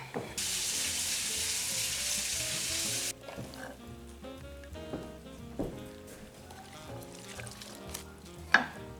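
Canned black beans rinsed under a running kitchen tap, a steady loud gush of water for about three seconds, then quieter clinks and handling sounds in the sink.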